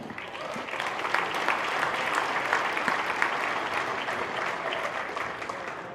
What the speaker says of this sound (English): How about one more round of applause for our recipients of the 2018-19 All Sports Awards.